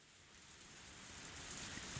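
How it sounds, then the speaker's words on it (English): Steady rainfall in a video game (Higurashi When They Cry) hisses continuously, a soft broadband patter that swells slightly in intensity, with no voices present. "It was raining."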